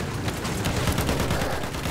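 Sustained volleys of rifle and machine-gun fire aimed at a tank in Battlefield 1, a dense, steady stream of overlapping shots at close range.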